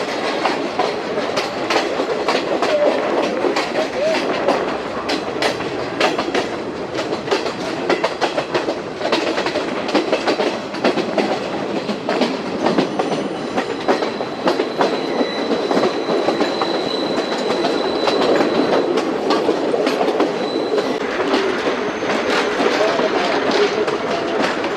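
A train rolls along the rails in Sri Lanka on the Badulla line, a steady loud carriage rumble with dense rhythmic clickety-clack of wheels and brief squeals heard from onboard, sustained for the whole stretch.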